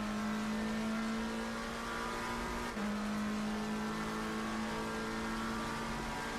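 A BMW engine drones steadily from inside the car as it accelerates, a continuous loud hum with a brief dip and shift partway through, likely a gear change; no talking.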